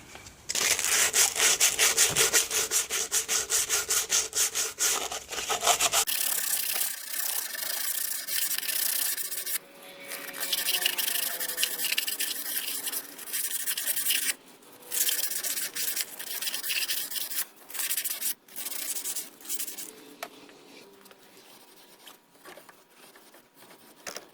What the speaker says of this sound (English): Now I'm going to go in there with some sandpaper, clean up the inside